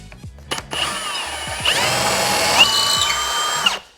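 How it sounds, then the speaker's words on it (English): A DeWalt power drill with a 1/4 by 10 inch bit bores into a wooden stud, whining up loudly and steadily for a few seconds after a couple of short clicks, then spinning down. "Use a 1/4 by 10 inch long drill bit."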